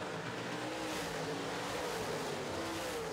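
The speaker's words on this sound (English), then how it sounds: "Starbuck Credit Union late models on the racetrack right now" Late model race cars roar around an oval racetrack during a heat race, a continuous engine drone from the passing pack heard at a distance, fairly faint and steady with no talk.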